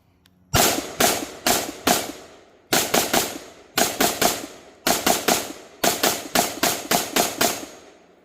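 A Q Honey Badger rifle chambered in 5.56 fires close and loud in tight strings of three to four rapid shots, with brief pauses between bursts and no talking.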